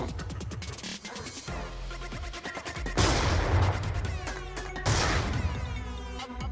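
Shotgun blasts in a first-person shooter match against a modder, two loud booming shots about two seconds apart, each ringing out and decaying, preceded by quieter clicking and handling noises.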